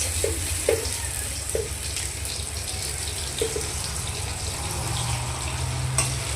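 Chopped onions with bay leaf and cumin sizzle steadily in a hot pan, a continuous close frying hiss with a few soft clinks of utensils and no talking.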